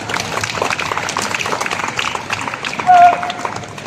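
An outdoor street-show audience in Piazza Navona, Rome, claps hands in a dense, continuous patter of many hands. A short tonal tone rises briefly near the end.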